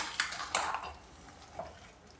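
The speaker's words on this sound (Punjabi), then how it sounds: "ਤੇਲ ਦੇ ਵਿੱਚ ਅਸੀਂ ਗਲਗਲ ਤੇ ਮਿਰਚ ਨੂੰ ਪਾ ਦਿੱਤਾ ਹੈ ਤੇ ਨਾਲ ਇਸ ਨੂੰ ਚੰਗੀ ਤਰ੍ਹਾਂ ਹਿਲਾ ਦਾਂਗੇ" Galgal and chillies are stirred in oil in a pan for pickle, with a few sharp utensil scrapes and clinks early on, then quieter stirring with a faint sizzle.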